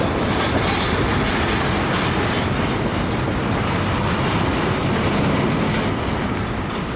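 CSX Q027 freight train hauling long blocks of intermodal containers rolls past close by, a loud, unbroken rumble with wheel clatter and rail noise sustained throughout, no voices.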